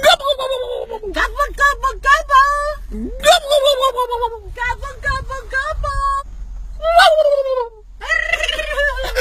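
A person's voice imitates a wild turkey gobble in a series of warbling, yodeling calls, loud and close, with a low engine hum underneath.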